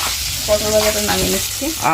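Slices of pointed gourd fry in hot oil, giving a close, steady sizzle and crackle that runs throughout, with a faint voice humming briefly underneath.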